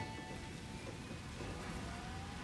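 Steady rain in the video game Satisfactory, a dense, even hiss of falling drops at constant level throughout, with no voices.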